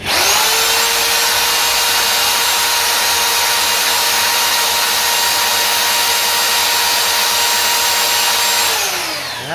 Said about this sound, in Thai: ผมจะกดสว่านนะครับ